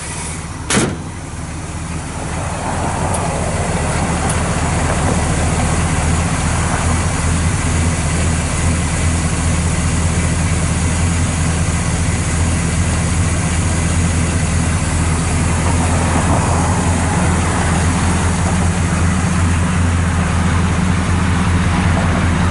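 A 1967 Chevrolet El Camino starts, with a brief clunk, then settles into a loud, steady, deep idle with a low rumbling hum that holds evenly for about twenty seconds.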